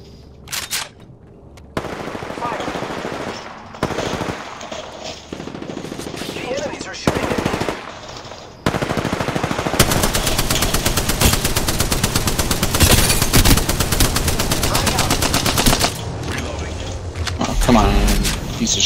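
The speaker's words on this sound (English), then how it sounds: "The enemies are shooting at me!" Video game gunfire from enemies crackles in long bursts of rapid machine-gun fire and scattered shots, loud and near, with a player's voice talking over much of it.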